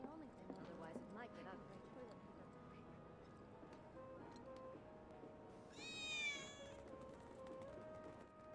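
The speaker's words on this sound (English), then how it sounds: "I think one of Betty's cats might be nearby." A cat in a video game gives a high, wavering meow from close by midway through, over a quiet game backdrop of soft tones and faint shuffling, with speech earlier on.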